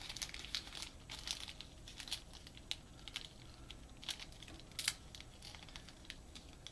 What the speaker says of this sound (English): We are going to get one of these little bits of paper out.